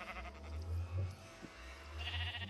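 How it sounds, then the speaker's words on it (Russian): Sheep bleating in a few short, wavering calls over a low background hum, fairly faint and without anyone talking. "Вот, тут у нас овцы"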